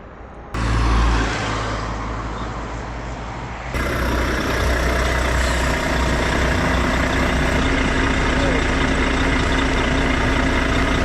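A truck engine, heard from a lorry bound for Fortaleza while hitchhiking in Brazil. A brief louder burst is followed by a close, steady engine drone that rises in level after a few seconds and holds constant.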